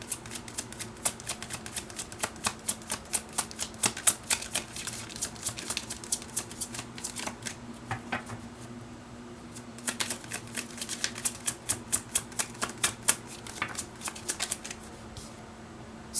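Tarot cards shuffled by hand, a close, soft, continuous patter of quick riffling clicks and card slaps in an uneven rhythm, alone and without talking.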